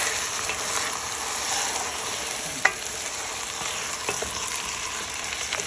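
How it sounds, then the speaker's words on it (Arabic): Duck pieces frying with onions in a pot, a steady close sizzle of hot oil with a sharp clatter partway through and a couple of fainter knocks, no talking. "ودي البصله بتاعت البطه، احط بقى فيها البطه كده"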